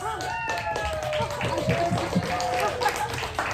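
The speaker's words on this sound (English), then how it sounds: "round of applause" An audience claps steadily for several seconds while voices cheer and call out over the applause.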